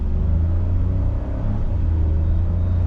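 A 2025 Kia Syros with a DCT gearbox pulling away, its engine giving a steady, loud low rumble that holds constant throughout, with no voices.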